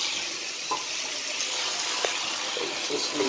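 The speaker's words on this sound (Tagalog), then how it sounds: "Lagyan natin siya ng tubig." Water poured into a pan of sizzling Youngstown canned sardines, a steady hissing, splashing wash of sound with a few faint clinks, continuous and close.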